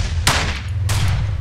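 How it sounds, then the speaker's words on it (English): Two sharp gunshots ring out in Arma 2 DayZ, a single distant-sounding crack followed by another about half a second later, each with a broadband burst over a steady low rumble of ambient wind. "Oh, someone's shooting."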